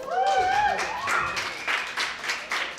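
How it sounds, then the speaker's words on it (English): Scattered audience clapping after a live song at a small music show, individual claps landing in uneven bursts under a fading sung or whooped voice and a bit of talk. "Let's give a round of applause for that."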